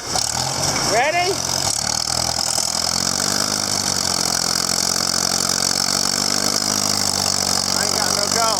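Farmall M tractor engine running in gear, a loud, steady low idle-like rumble that continues throughout, with people talking over it.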